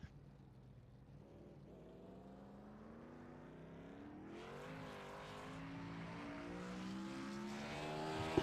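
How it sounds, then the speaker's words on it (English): A race car does a burnout after winning at the Homestead FNX Series championship. The engine drone is steady and fairly distant, then swells and climbs in pitch and intensity. "after you get done with the burnout"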